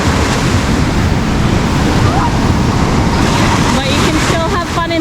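Surf rolls and breaks steadily on a beach at Mazatlan, a constant loud wash of waves with wind buffeting the microphone and a voice speaking faintly underneath.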